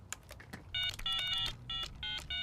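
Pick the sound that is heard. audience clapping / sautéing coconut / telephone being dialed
telephone being dialed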